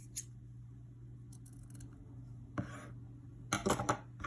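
Scissors snip through thin bookmark craft material, a few faint isolated cuts followed by a quick cluster of sharper snips near the end, close and quiet.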